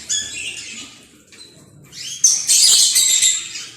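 Pet budgerigars chirp and twitter while eating celery, bright rapid calls that come in bursts, growing busier and louder in the second half with no talking.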